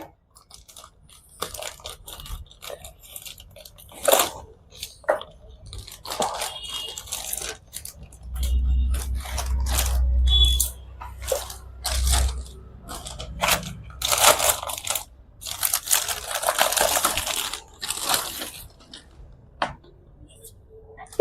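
Plastic packaging of a LuvLap 4-in-1 baby high chair being torn and crushed open, with irregular crackling and crunching bursts, a few heavier low thumps midway, and occasional speech between the noises.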